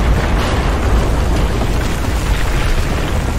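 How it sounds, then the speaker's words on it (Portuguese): Explosions in the shooter game Battlefield 4 on PS4 make a loud, continuous roar of rumbling blasts and debris noise that fills the whole clip without pause. "Só contei duas explosões."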